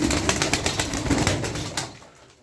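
Kara Şimşek pigeons beat their wings in rapid, rhythmic claps close by, a loud fluttering burst that gradually fades away over about two seconds.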